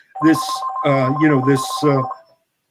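A telephone rings in a radio studio, a loud electronic ring sounding in three bursts with short gaps between them, clear and close.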